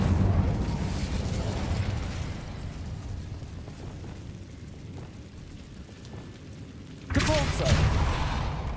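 An Incendio fire spell is cast in Hogwarts Legacy, a burst of roaring, crackling flame and impacts that fades to a low rumble and then flares loudly again near the end, with a game voice underneath.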